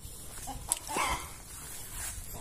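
A hen clucks briefly close by in an outdoor yard, a few short throaty calls over quiet background noise.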